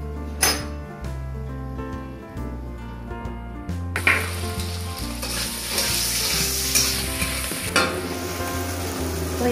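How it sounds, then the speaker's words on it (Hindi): Boiled potato pieces frying in oil in a kadai, a low steady background hum at first, then a loud bright sizzle that swells and holds, with occasional spoon clinks against the metal. "इन आलू को हम फ्राई करेंगे पहले।"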